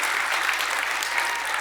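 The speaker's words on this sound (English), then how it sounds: "this is traditionally the point in the live code where people start clapping" Audience applause at a live coding conference talk, a steady, dense wash of many hands clapping together, loud and continuous with no voices over it.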